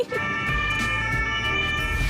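An ambulance siren on a road in France wails steadily and fairly loud over low traffic rumble, without talk.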